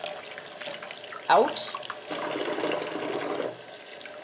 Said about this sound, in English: alternate with cold water and squish